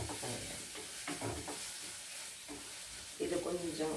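Beetroot adai mixture sautéing in a pan, a quiet sizzle with soft scraping stirs, a little louder near the end, and a voice faintly audible in the background.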